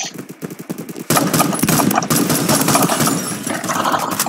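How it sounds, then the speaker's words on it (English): Rapid automatic gunfire from the Phantom Forces shooter game bursts in loud and close after a quieter stretch of scattered clicks and shots, then rattles on continuously with dense, fast repeating reports. "Who is shooting me?"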